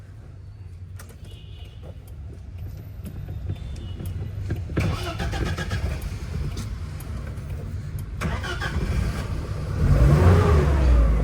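A Hindustan Ambassador car engine cranks and catches, then idles with a steady rumble and builds to a louder rev near the end, recorded close up with a brief exclamation from a voice.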